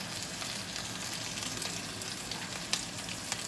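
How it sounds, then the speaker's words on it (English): Humba, a braised pork dish, simmering in Sprite in a pot, giving a continuous soft bubbling hiss that stays even and fairly quiet throughout, with a faint click near the end and no voices. "we're just gonna use the Sprite and let it simmer for like maybe 15 to 20 minutes"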